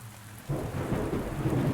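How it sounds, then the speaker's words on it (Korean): Thunderstorm in a video game: a deep thunder rumble rolls in over steady heavy rain, loud and close, with no voices. "원래 천둥이 저렇게 거세게 쳤었나?"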